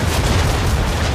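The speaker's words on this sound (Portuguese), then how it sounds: "Atirar, canhão." A heavy, booming blast fills the short moment, a dense rumble like a cannon shot, fired in Assassin's Creed 3.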